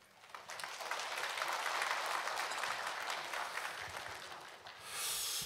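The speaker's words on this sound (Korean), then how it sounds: "나오실 때 박수로 환영하겠습니다." Church congregation applauds as a pastor is welcomed to the pulpit at an Easter-week dawn prayer service, steady dense clapping sustained for several seconds, loud and even, with no talking over it.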